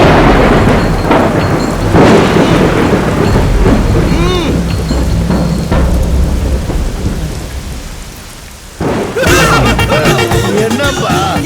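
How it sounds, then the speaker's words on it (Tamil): Heavy rain pours steadily with rolling thunder rumbling underneath, a loud dense wash that dips briefly before a sharp burst returns near the end; no voices. "மழை பெய்யுதுல்ல"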